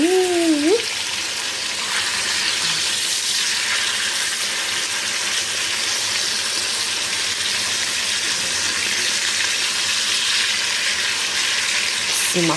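Food fries in a pan while dinner is cooked, with rice boiling nearby. A loud, continuous sizzle fills the whole stretch, steady and close, with a brief squeaky tone at the start.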